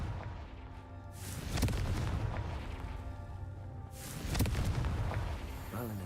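In the Hogwarts Legacy video game, two fiery Confringo blasting spells go off a few seconds apart, each a heavy booming explosion with a rumbling, crackling tail.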